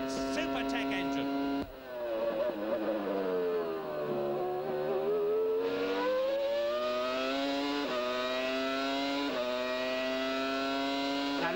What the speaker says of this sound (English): Now just listen to that Super Tech engine.